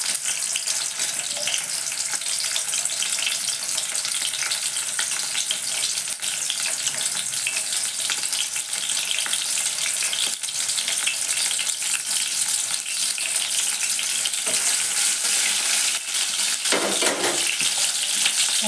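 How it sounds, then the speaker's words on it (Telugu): Onions sizzling in hot oil for a tomato and cucumber curry, a loud continuous hiss and crackle that runs without a break from start to finish. "వేడెక్కిన తర్వాత మనం ఉల్లిగడ్డలు వేసుకోవాలండి."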